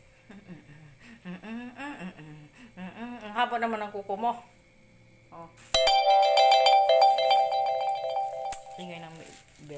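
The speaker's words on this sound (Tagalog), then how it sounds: "notification." A phone notification ringtone plays a loud, bright melodic chime lasting a few seconds, following a stretch of close conversational speech and fading out before talk resumes.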